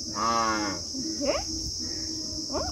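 A buffalo lets out one clear, drawn-out moo up close, followed by a couple of short high calls against a steady insect drone.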